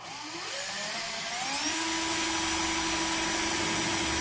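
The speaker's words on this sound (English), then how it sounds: "Drill it straight on through." A power drill whines up to full speed and bores steadily straight through a board, the motor pitch rising then holding, close and loud.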